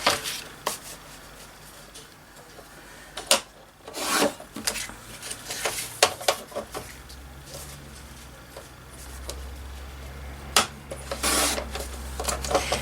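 Scissors or a blade cut off-cut strips of paper for a journal page, giving a series of irregular close rasping snips and rustles, some louder, over a quiet background.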